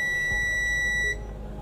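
A multimeter continuity tester beeps on a shorted Samsung Galaxy Fold (SM-F900F) phone motherboard, one sustained high electronic tone for about a second before cutting off, over faint background noise.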